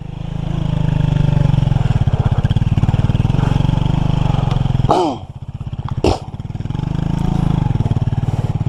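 A Skygo 150 motorcycle chugs along steadily, loud and close, dipping briefly as it shifts or slows and then pulling again.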